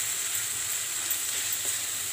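Finely chopped tomato and onion frying in a pan for restaurant-style paneer masala, giving a steady, close, bright sizzle that holds without a break and has no talk over it.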